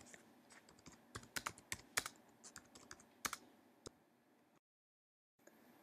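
Fingers type on a computer keyboard entering a blog title, a close, quiet patter of irregular key clicks with a few sharper taps, ending in a brief silence.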